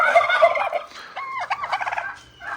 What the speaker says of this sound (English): there's 6 turkeys